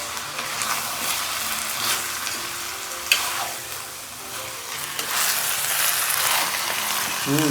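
Chicken curry being stirred in a pan after turmeric and chili powder go in: a continuous loud sizzle with scraping stirs, a sharp clink near the middle and a fresh burst of frying toward the end.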